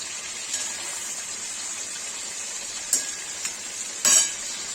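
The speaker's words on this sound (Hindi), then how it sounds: "आधा पनीर फ्राई करके पानी में डाल दिया है और आधा चढ़ा दिया है।" Paneer frying in a pan for Kashmiri saag gives a steady, even sizzle throughout, with a few light clinks of a utensil and one brief louder splash of stirring near the end.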